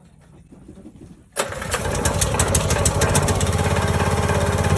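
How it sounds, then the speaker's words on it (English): A CountyLine 25-ton log splitter's small engine fires up after a quiet moment, then runs loud and steady with a busy mechanical clatter close by. "25-ton log splitter, county line. Let's see if we can do From it. Tractor Supply. Woo! Noisy."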